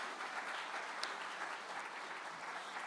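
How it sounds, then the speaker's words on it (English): A crowd at a corporate partners' meet claps for itself in a steady, even wash of applause, faint and distant-sounding, continuing for about three seconds. "Come on, put your hands together for yourselves."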